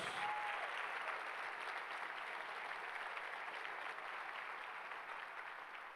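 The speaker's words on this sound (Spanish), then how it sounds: "Denle el aplauso a Jesús." A church congregation applauding during a Spanish-language sermon, a sustained wash of clapping from a crowd, fairly faint and steady throughout, slowly tapering near the end.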